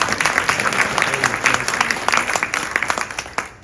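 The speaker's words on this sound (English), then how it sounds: "I'm going to give them a little round of applause." Audience applause at the opening session of a House of Delegates meeting in Bellevue, a crowd clapping steadily with many crisp individual claps, then thinning out at the end.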